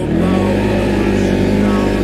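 Supercharged ACCESS Shade Sport+ prototype ATV revving, a steady, loud, close engine drone with rough harmonic growl holding level throughout, no voices.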